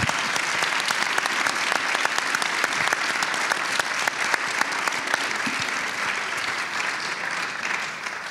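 An audience at a talk by philosopher and sociologist Hartmut Rosa applauds the translators with sustained, dense clapping that stays steady and fairly loud for the whole stretch, with no voices on top.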